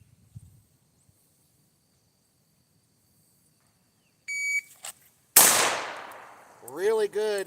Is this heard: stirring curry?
no